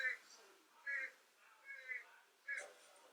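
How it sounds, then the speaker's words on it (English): A bird trapped in a house roof, probably after roof repair work, gives faint, muffled squawking calls in short bursts about once a second, distant and quiet indoors. "It sounds like a bird got caught in our roof"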